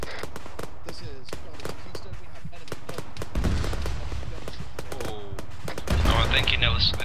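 Gunfire in the video game Arma 3, a rapid crackle of shots throughout, then a loud near explosion bursting in around the middle and another heavy blast near the end, with voices talking over the combat.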